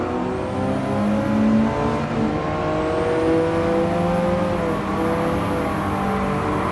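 Race car engines in the Gran Turismo 7 video game drone steadily and loudly throughout, with overlapping engine tones rising and holding as several cars run close together, and a thin high whine on top.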